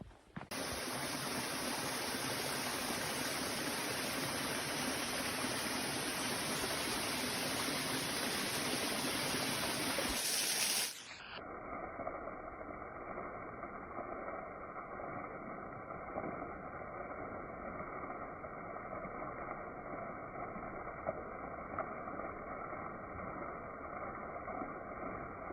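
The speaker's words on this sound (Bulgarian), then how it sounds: "Вече сме на последната спирка за деня. Водопад Свети Георги." Sveti Georgi waterfall in the Rhodope mountains, a loud broadband rush of falling water that runs steadily for about ten seconds, then drops abruptly to a softer, muffled roar for the rest.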